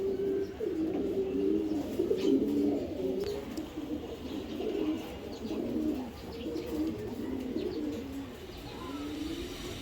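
Pair of Giribaj pigeons cooing steadily, close and moderately loud, with continuous low throaty coos and faint chirps in the background.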